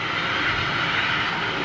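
Ryanair jet landing at Dublin in gusty wind, its engines a loud, steady broadband roar close by, no talk over it.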